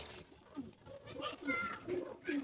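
Racing pigeons coo softly in a loft, several low murmuring calls rising and falling over a few seconds, with someone talking quietly nearby.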